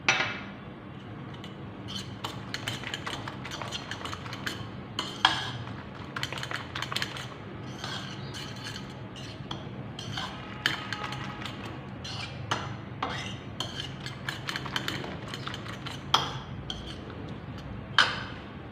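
Egg and bread mixture being stirred in a bowl, with steady clinking and scraping of a utensil against the bowl running throughout, close and moderately loud, a few sharper knocks standing out.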